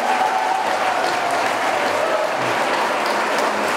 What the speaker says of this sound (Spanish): una compañera, la doctora Marcela Fernández, para quien pido un fuerte aplauso, por favor.